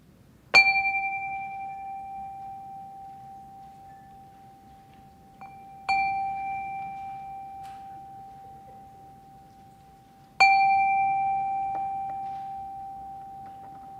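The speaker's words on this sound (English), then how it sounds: "calm our hearts with the ringing of our chime" A chime rung three times during a church service, each clear metallic strike blooming and then slowly decaying into a long, sustained resonant tone that lingers until the next stroke.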